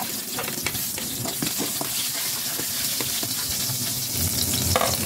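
Garlic fries in olive oil in a pan, a bright continuous sizzle with scattered crackles and spatula clicks, heard up close for several seconds with no talking.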